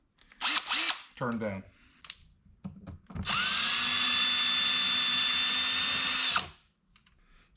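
A cordless drill whirs in one long, loud, steady run lasting about three seconds, driving screws into a 2021 Ford Bronco, preceded by brief talk and a few short clicks and handling sounds.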